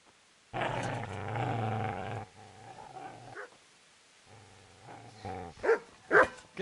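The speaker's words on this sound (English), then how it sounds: "Get away, you mutt!" A dog in a PS4 video game growls deeply in long rumbling stretches, then gives a few sharp barks near the end, loud and close, with no talk over it.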